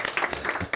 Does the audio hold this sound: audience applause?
yes